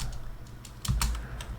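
Keys clatter on a Commodore 64 keyboard as a program is typed in, a quick run of crisp clicks that bunch into a louder burst midway, close and clear over a low hum.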